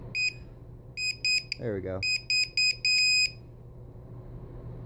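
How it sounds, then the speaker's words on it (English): A LiPo battery low-voltage detector on an SK450 quadcopter build sounds a series of loud, shrill electronic beeps in short repeated bursts, with someone briefly speaking between them. "I just wanted to show you my low voltage detector."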